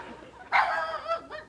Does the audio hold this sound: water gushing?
no